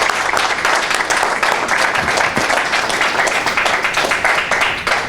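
Audience applause for guest speaker Tony Lopez, a sports radio and TV broadcaster, as a steady, dense burst of many hands clapping that fills the room for the whole stretch.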